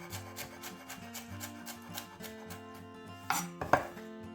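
A knife chops fresh coriander, stalks included, on a wooden board: rapid rhythmic taps close by under a faint tonal hum, ending with two louder knocks.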